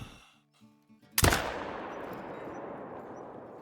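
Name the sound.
hunting rifle shot uphill, video game Call of the Wild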